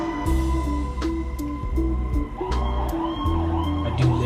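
Emergency vehicle sirens wail outdoors at middle distance, a continuous rising and falling tone with occasional clicks and knocks nearby.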